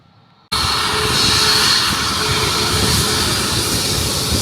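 A jet airliner lands on the short runway at Skiathos, set between two hills. A sudden, loud, steady engine roar fills the air close overhead and continues without talk.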